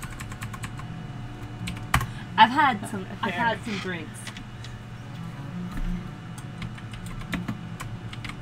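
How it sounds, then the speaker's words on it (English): Rapid clicking on a computer keyboard runs steadily throughout, with a voice talking and laughing briefly over the typing near the middle. "Typing."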